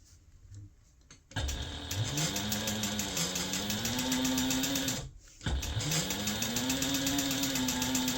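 A sewing machine stitches around a notepad holder, its motor whirring steadily in two long runs with a brief pause between, close and loud with no talking.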